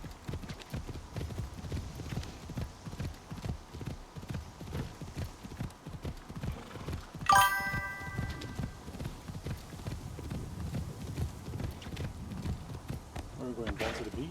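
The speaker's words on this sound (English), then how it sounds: "I may have to change the horse." Horse hooves clip-clopping in the video game Assassin's Creed Shadows, with a steady, continuous trotting rhythm, close and clear, and a brief chime partway through.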